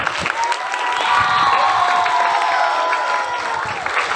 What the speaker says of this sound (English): So you clap for yourself.